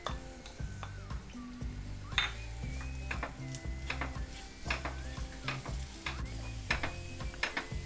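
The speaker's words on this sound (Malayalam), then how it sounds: "ചെറിയ ഉള്ളി അരിഞ്ഞത് നെയ്യിൽ മൂപ്പിച്ചിടണം" Chopped small onions fry in ghee in a pan, giving a steady close sizzle while a spoon scrapes and stirs, with frequent light metallic clinks against the pan and no speech.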